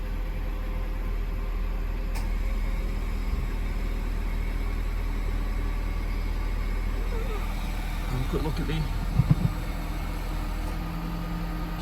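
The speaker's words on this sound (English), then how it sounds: "turn the old AC off and see the car running. Everything's steady." A 2009 Ford Fiesta Titanium engine idles in neutral, a steady low hum running throughout with a voice speaking briefly over it and a few small knocks near the end.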